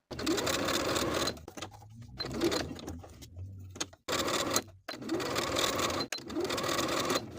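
Sewing machine stitching rows of shirring around a dress, running in several long, close bursts broken by short pauses with faint low handling noise between them.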